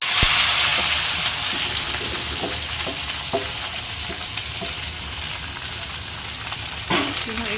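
Sliced onion, tomato and green chili fry in a pan with a steady loud sizzle, punctuated by occasional stirring clicks and taps of a utensil.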